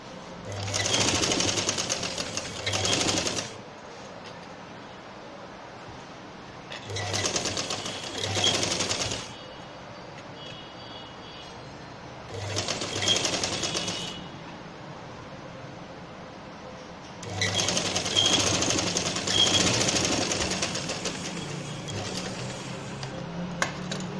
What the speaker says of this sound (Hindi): एक स्ट्रेट सी सिलाई लग जाएगी